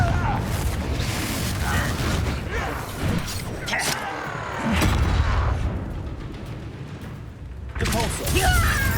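Confringo blasting spells exploding in the video game Hogwarts Legacy, loud booming blasts mixed with dense combat noise and game music, with voices talking over it.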